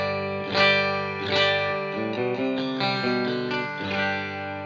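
An electric guitar played through a Hughes & Kettner Nano Spirit of Vintage clean amp rings out in sustained chords and picked notes, clean and full with a light shimmer, heard alone with no talking.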